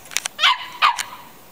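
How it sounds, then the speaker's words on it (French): A small dog gives two close, high yipping barks with a brief whine between them, with a few light taps just before. "Elle aboie quand elle peut pas voir ce qu'elle veut."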